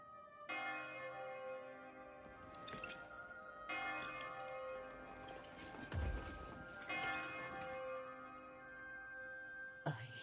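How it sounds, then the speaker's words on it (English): Church bells ring in the video game Code Vein II, with three big clanging strikes spaced a few seconds apart and long, shimmering tones between them, close and full, then a sharp short hit at the very end. "I hear bells."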